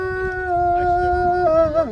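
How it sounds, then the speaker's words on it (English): A wolf at a wolf sanctuary gives a sustained alarm howl, one long, loud, close, steady tonal call with rich harmonics that wavers and drops off at the end. "He will alarm howl like this."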